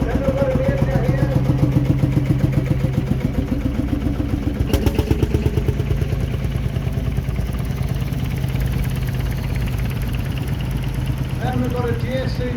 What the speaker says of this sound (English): That's a Marshall tractor, field Marshall.